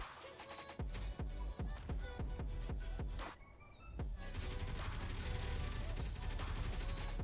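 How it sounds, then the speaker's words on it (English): Gunfire in the video game Space Engineers aimed at meteors, rapid bursts of shots that pause briefly, then resume as a dense continuous barrage. "What are we shooting at? Oh, meteors."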